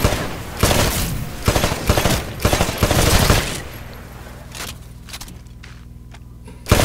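Rapid weapon fire at shooting range targets in the video game Titanfall, several loud bursts of automatic gunfire in quick succession, then quieter clinks and a final sharp shot.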